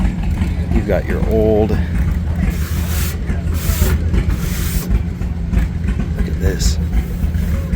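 An antique Caterpillar crawler tractor at the Box Elder County Fair show rumbles past with a low, steady engine drone and clanking, loud and close, while someone talks excitedly over it.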